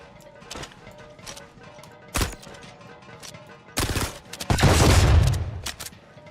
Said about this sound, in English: can fix it though if we just shoot the cans.